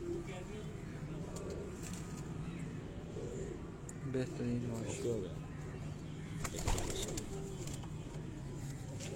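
Pigeons coo softly on a rooftop loft in Kasur, a low, faint murmur running under nearby men's conversation, with scattered rustles and a few louder moments.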